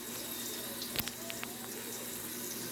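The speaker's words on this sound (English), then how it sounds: "You see the water's going." A household tap runs steadily into a sink, a soft continuous hiss of water at low level with a brief clunk near the start.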